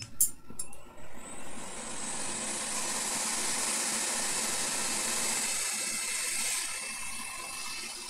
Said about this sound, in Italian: E l'aria calda per mettere a posto i chip.